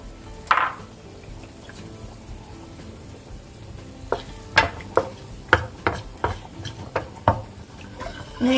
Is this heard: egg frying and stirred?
yes